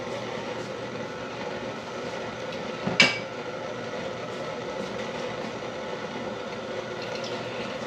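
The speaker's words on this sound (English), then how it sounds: "So I'm going to put this wok on, get it heat up a little bit." A Master Star Chinese hand-made wok is set down on a stove, giving one sharp metallic clank midway through over a steady low kitchen hum.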